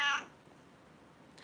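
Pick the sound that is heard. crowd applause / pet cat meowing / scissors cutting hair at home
pet cat meowing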